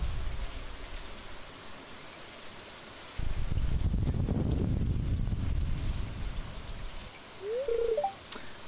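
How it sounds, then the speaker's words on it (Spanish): Rain falling in the farming video game Stardew Valley, a steady hiss of downpour that swells louder midway before easing back, with a brief chime near the end. "Joder, encima un día de lluvia"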